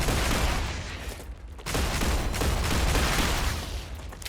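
Weapons firing in the sci-fi game StarRupture: a continuous rapid fusillade of loud gunshots, dense and close, with a brief lull midway before resuming at full intensity.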